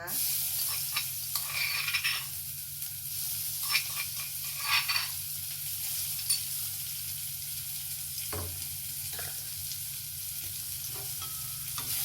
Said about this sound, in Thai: เรามาผัดกันแบบง่าย ๆ เลยค่ะ ใส่กระเทียมกับพริกที่โขกแล้วไปก่อนนะคะ